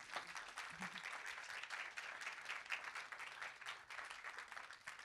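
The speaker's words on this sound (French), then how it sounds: "Je vous demande d'accueillir, sous vos applaudissements, Anne Berest." Audience applause welcoming a guest on stage at the Cannes Séries festival: dense, sustained clapping from a sizable crowd, fairly distant and steady throughout, with no talk over it.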